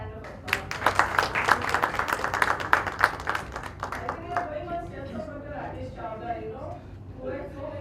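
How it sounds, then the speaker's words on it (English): At a medical talk on neutropenic sepsis, an audience claps briskly for about three seconds, then the applause fades as a speaker's voice takes over. "A big hand of applause."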